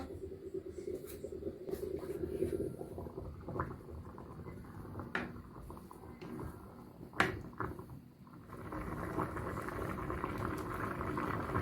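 A steady bubbling, simmering churn of water boiling with rice in a pot, continuous throughout with a few sharp clicks and knocks of a lid or utensil.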